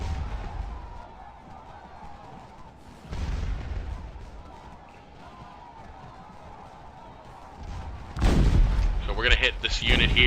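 Musket volleys and artillery fire in the Civil War video game Scourge of War: Chancellorsville, a steady crackle of distant gunfire swelling into a loud, dense barrage with booms near the end.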